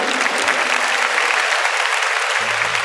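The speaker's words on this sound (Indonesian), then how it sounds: "Kasih tepuk tangan untuk Tuhan Yesus" A church congregation breaks into loud, dense applause, a sustained roar of many hands clapping close and full, with faint murmuring voices mixed underneath.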